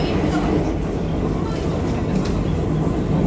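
Inside a moving train, a constant low rumble and broadband rattle fill the carriage, with faint voices murmuring underneath.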